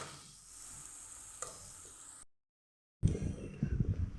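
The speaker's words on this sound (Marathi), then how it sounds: "आता हे चांगलं परतायला लागले" Kathiawadi eggplant masala stir-frying in oil, a steady sizzle with scraping stirs, broken by a short silent gap before louder, busier frying resumes up close.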